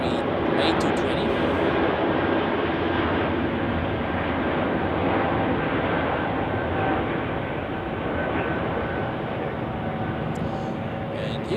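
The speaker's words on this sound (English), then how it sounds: "Here we have Royal Jordanian Airlines coming in from Amman" A Royal Jordanian Embraer 195 E2 airliner arriving from Amman at Zurich Airport on a winter day gives a steady, loud jet roar that holds throughout, with a brief high whine near the start and end.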